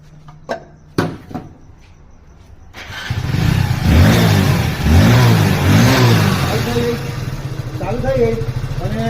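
A Hero Splendor motorcycle with a starting problem and its back angle sensor unplugged gives a few clicks, then the engine catches and runs loud and close, revving up and down in several swells.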